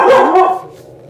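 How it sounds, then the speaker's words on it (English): A single loud, close dog bark that trails off quickly into quiet. "See if my dog keeps barking."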